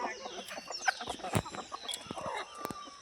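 Country chickens cluck on a farm, with several close, irregular clucks and short calls overlapping in a busy, moderately quiet flock scene.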